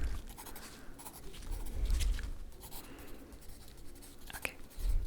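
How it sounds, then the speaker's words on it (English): A pen scratches across paper in soft, continuous strokes with short pauses, quiet and very close, alone in a calm room. "Just need to write this down."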